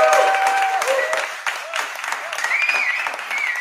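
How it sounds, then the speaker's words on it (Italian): Audience applause at a jazz orchestra concert, breaking out for a musician during a performance; steady broadband clapping throughout, fairly loud, with a few tonal traces of voices or instruments mixed in. "Io vorrei farti un applauso."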